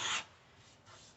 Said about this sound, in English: I took my scraper and ran down the edges of this just to take off any